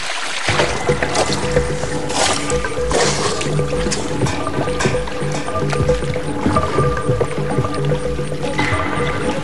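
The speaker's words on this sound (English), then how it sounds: "The more it's in the water, the more it starts to leak." Water seeping and sloshing into a leaky improvised boat afloat on water, with continuous wet squishing, trickling and dripping close by.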